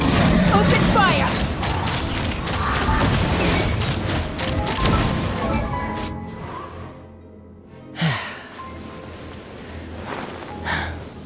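Cannon fire in Genshin Impact erupts as dense, loud booming and mechanical clatter after the order to fire, then fades to quieter rumbles with a couple of later thumps.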